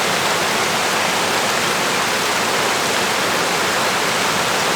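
Steady roar of a waterfall during a traditional African bathing session, with dense broadband rushing water close by, constant and unbroken, no voices.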